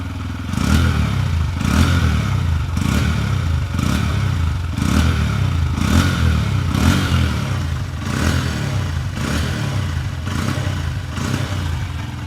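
A 2025 Honda Hornet 125 motorcycle engine idles nearby, a steady low mechanical run marked by regular thumping pulses about once a second, with no talking.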